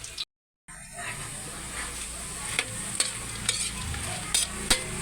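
Kikiam fish balls sizzle steadily in hot oil in a pan, with a brief gap early on, then repeated scraping clinks of a utensil stirring them at intervals.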